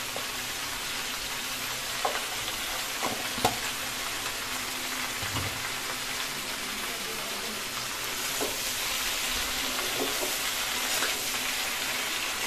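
Young jackfruit pieces with turmeric and salt fry in a pan, a soft, even sizzle heard close but fairly quiet, with a few light taps of a spatula scattered through it.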